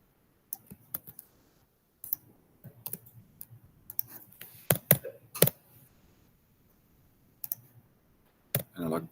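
Typing on a computer keyboard while writing Arduino code, heard as sparse, irregular bursts of close, sharp clicks with quiet pauses between them.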